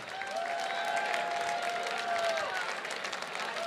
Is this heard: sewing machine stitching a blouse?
no